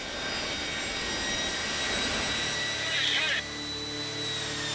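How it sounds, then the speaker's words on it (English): An aircraft engine runs with a steady, loud whining drone and a brief higher burst before easing slightly, with talking over it. "The pilot cuts the engine almost immediately"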